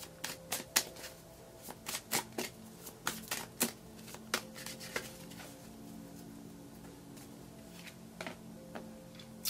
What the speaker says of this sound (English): We'll pull one more card for your environment.